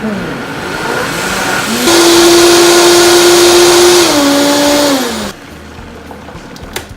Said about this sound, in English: so you use the Vitamix. Turn it up to really, it's going to get loud here